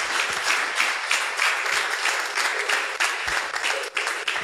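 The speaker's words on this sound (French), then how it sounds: "Nous applaudissons Jésus matin." A church congregation claps steadily together, a dense, continuous wash of applause filling the room at fairly high level without pause.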